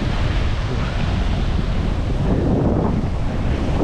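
Indian Ocean surf at Hikkaduva beach, Sri Lanka, roars as a dense broadband wash mixed with heavy wind buffeting on the microphone, loud and constant, with no talk.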